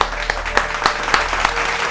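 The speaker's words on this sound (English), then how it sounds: "So, round of applause for Moonlight Media, baby." A short burst of applause, a handful of distinct loud claps spaced unevenly over a hum, with no talking, lasting about two seconds.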